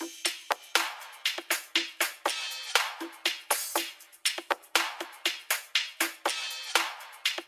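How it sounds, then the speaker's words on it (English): Soloed electronic percussion made of a chopped and rearranged sampled bongo loop, two different hi-hats and a shaker, playing a busy syncopated groove of dense, bright, close hits. "a sampled bongo loop that I've kind of chopped and rearranged, 2 varying hi-hats, and a shaker."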